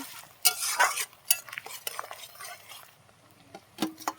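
Onions frying in a pan until reddish-brown, for a beef and potato curry, with stirring scrapes and utensil clatter in irregular bursts over a soft sizzle, fairly close and moderate in level.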